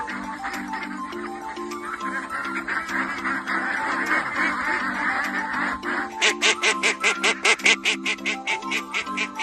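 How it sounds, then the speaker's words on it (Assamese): Many ducks at a duck farm quack in overlapping chatter, building into a rapid, rhythmic burst of loud quacks near the end. "একদম হাঁহৰ ফাৰ্মত সোমাই গ'লোঁ।"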